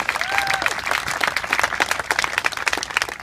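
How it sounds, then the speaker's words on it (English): Audience applause at a city event marking a stormwater wetlands construction project, a steady dense wash of many hands clapping throughout, with a brief whistle or voice early on. "I urge you to help me in giving them a round of applause"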